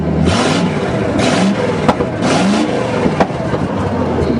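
An old farm loader engine, cranked for the first time since 2001 on a jury-rigged battery, revs in loud swelling bursts that rise and fall several times over a steady running rumble, with a couple of sharp knocks.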